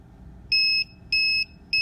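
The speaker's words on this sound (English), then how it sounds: "I wired all the components to the printed circuit board that came with the ultrasonic ranging alarm, and it does actually work." A homemade ultrasonic ranging alarm wired onto a printed circuit board sounds three short, even electronic beeps at a regular pace, clear and close against a quiet background.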